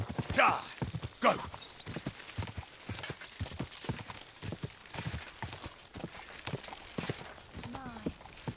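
Horse hooves clip-clop in Kingdom Come: Deliverance II, a steady rhythmic trotting beat near and clear, with a couple of sharp louder strikes early on and a voice speaking over part of it.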